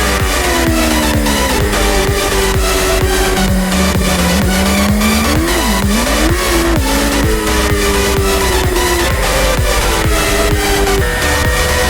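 Race car driven at speed around Daytona, a loud continuous engine roar with rising and falling pitch through gear shifts and turns, tire squeal mixed in, no voices.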